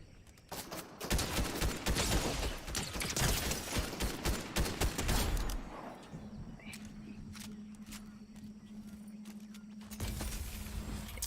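Gunfire from people shooting nearby comes as a dense, rapid burst of cracks and pops for about six seconds. A steady hum follows with a few scattered later shots.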